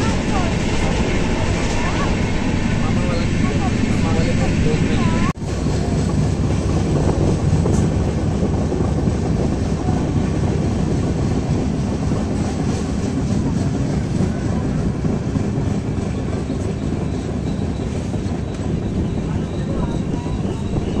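Una Janshatabdi Express train running at 130 km/h, a loud, steady roar of wheels and wind from inside, with faint clickety-clack running through it and a brief sharp bang near the start.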